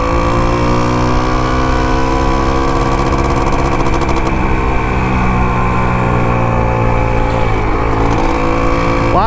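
A restored Can-Am motorcycle on a test ride gives a loud, sustained engine drone with strong harmonic tones, small rises and falls in pitch and wind rush, heard close and continuous with no talking.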